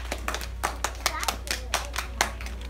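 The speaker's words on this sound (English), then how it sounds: "Everybody clap for Ethan." A PreK class of children gives Ethan a short round of quick, uneven clapping indoors, heard up close for a few seconds.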